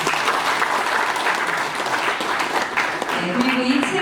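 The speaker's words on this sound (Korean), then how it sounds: "준비위원회 분들의 노고에 다시 한 번 더 큰 격려의 박수 부탁드립니다." A crowd at a book launch for Dr. Kim Hae-gon claps for the preparation committee, a dense sustained round of applause with some voices mixed in.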